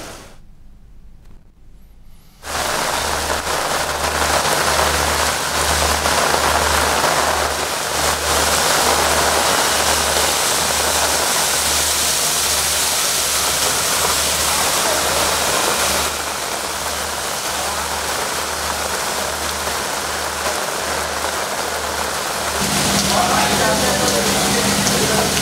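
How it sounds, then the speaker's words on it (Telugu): Heavy rain falls in Hyderabad as a loud, continuous broadband roar, with a low, rhythmic throbbing rumble beneath it and a voice talking over the downpour. "తెలంగాణలోని పలు జిల్లాల్లో కూడా భారీ వర్షం పడుతోంది"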